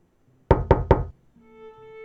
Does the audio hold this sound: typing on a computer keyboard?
no